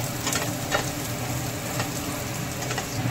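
Chopped onion stir-fries in hot oil with a continuous close sizzle and occasional soft stirring scrapes, with no talking.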